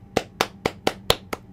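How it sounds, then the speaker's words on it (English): Six sharp hand claps in a steady, evenly spaced rhythm, close and fairly loud, with no talking. "We'll do a little clap for you guys."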